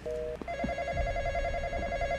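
A telephone rings indoors in an electronic trill, first a short burst and then a longer continuous ring, fairly faint over a low background rumble.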